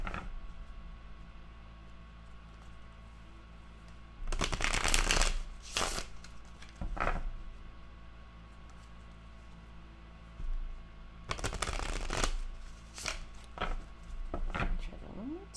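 Lost Soul Tarot cards riffle-shuffled by hand, two loud bursts of crisp papery flicks near 4–7 and 11–15 seconds with quieter pauses in between, close and alone.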